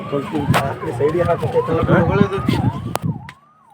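An ambulance siren wails loudly and close at the scene of a road accident, its rising and falling tone sweeping steadily for a few seconds under voices before cutting off.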